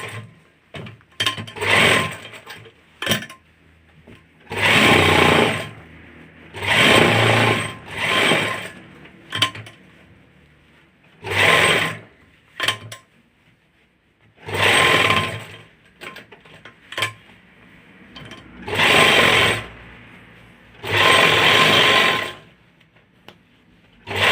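Sewing machine stitching a shirt cuff, running in loud bursts of rapid whirring stitches a few seconds long, separated by short quiet pauses, close up.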